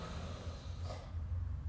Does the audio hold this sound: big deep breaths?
yes